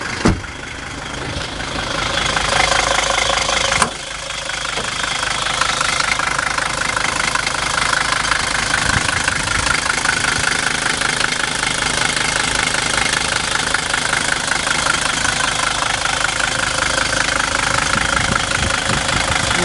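A 1978 Mercedes 300D diesel engine idles with a steady, loud knocking clatter and vibration, heard close up and continuously for nearly twenty seconds with no talking.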